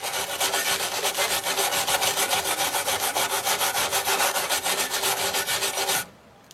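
A wire brush scrubs rusty brake threads on a Traction car in quick, even back-and-forth strokes, a continuous rasping scrape for about six seconds before it stops.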